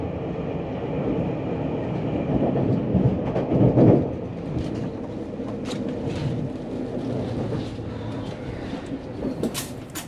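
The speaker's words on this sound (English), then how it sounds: "The train left Cairns on time." Spirit of Queensland Tilt Train leaving Cairns, heard from inside as a continuous rolling rumble and hum of the carriage with occasional knocks and rattles, moderately loud and steady, no talking.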